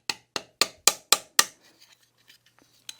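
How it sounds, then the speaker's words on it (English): A rawhide mallet tapping folded metal sheet held in vise jaws, six crisp, evenly spaced strikes in a quick run, then faint light knocks and one final tap, close and without talking. "And tap it down with your rawhide mallet."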